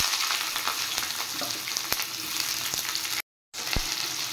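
Bitter gourd pieces with turmeric and salt frying in oil, a steady crackling sizzle with a few light utensil knocks, briefly cut to silence near the end before resuming.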